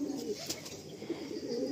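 A male chocolate doma pigeon coos in a soft, low, rolling burble, close by and moderately loud for under two seconds.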